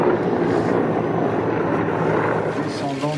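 Engines of a vintage military training airplane drone loudly and steadily close by, a dense continuous roar with wind buffeting the microphone.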